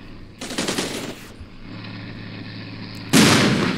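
A tank opens fire in the video game Armored Brigade, with rapid bursts of gunfire followed by a sharper, louder blast near the end, heard alone without talk.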